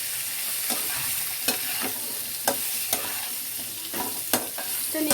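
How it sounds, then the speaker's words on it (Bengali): Potatoes being stirred while frying in a pan with turmeric and salt, a steady sizzle broken by sharp scraping strokes of a spatula at irregular intervals, close and alone. "আলুটাকে নেড়ে নেব।"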